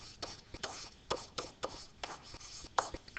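Marker or chalk scratching across a classroom board in short strokes and taps, fairly close and quiet, with no talking.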